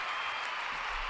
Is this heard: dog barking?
no